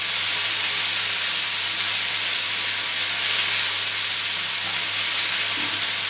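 Vegetables sautéing in a pan with garam masala and red chili powder, a steady loud sizzle and hiss running without a break, close by and with no voices.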